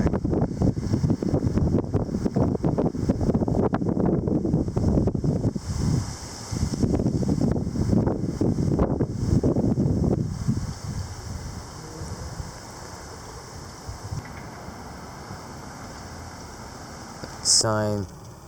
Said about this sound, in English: Yeah, winds are getting really going.